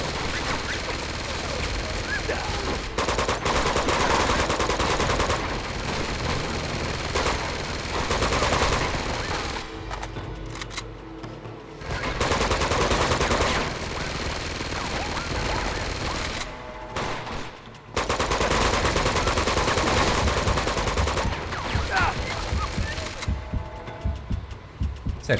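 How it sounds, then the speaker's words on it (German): Mounted gun fire in the PS4 game Uncharted 2: Among Thieves, long loud sustained bursts of automatic fire broken by short pauses, with game noise and some talking mixed in. "Dieses Geschütz, das uns hier treffen kann."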